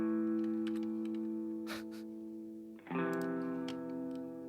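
An electric guitar plugged straight through a pedal board into an audio interface rings out sustained, heavily effected chords, with a brief dip before a brighter new chord swells in and holds, close and alone with no voices.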